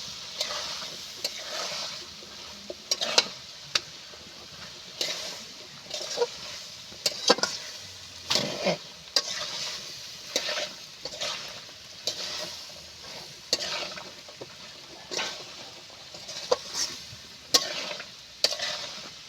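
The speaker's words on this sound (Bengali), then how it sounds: "এবার আমি বেসনটা দিয়ে দেবো দিয়ে ভালো মতো করে আমি কষিয়ে নেবো" Gram flour (besan) being stirred and roasted in a pan for ghugni, with steady scraping strokes and a soft background sizzle, close and moderately quiet, repeating rhythmically throughout.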